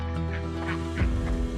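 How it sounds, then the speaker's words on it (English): Ducks in a backyard duck yard give a few honking quacks, close and fairly loud, over a strong low steady hum. "This is my duck yard."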